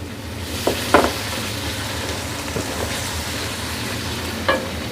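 Chopped green chillies hit hot oil for chana pulao and give a loud, continuous sizzle, with a few light stirring clicks on top. No one talks.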